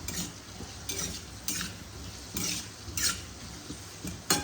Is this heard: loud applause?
no